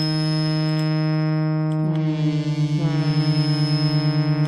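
A three-oscillator synthesizer holds a low buzzy tone, then a higher pitch slides in around two seconds and begins a wavering, pulsing beat against it, rich in stacked harmonics and steady throughout.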